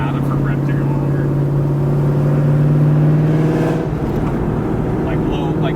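A Trans Am engine pulls hard in high gear under heavy load during test-and-tune running, heard from inside as a loud, steady drone that rises slightly in pitch, then eases off near the end while a person talks over it.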